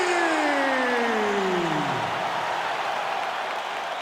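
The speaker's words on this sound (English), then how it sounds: "You hear the crowd" A video game arena crowd roars in a UFC 5 bout, a dense, steady wash of cheering with a falling whoosh sweeping down at the start.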